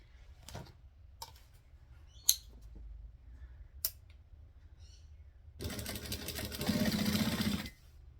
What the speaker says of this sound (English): My brain really wants to do 2 lines of stitching, so I think we're going to.